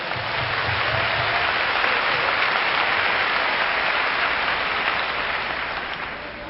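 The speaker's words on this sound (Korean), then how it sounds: "두 손을 높이 들고 박수로 환영한 것을" A church congregation applauds with hands raised. A dense, continuous wash of many hands clapping stays loud and even throughout, then eases slightly toward the end.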